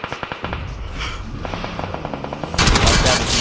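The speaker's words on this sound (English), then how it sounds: "RQ also receiving a lot of gunfire from Sem9 there." Video-game gunfire in a PUBG esports match: a few sharp single shots at first, then rapid automatic bursts that grow louder and denser toward the end, near and loud.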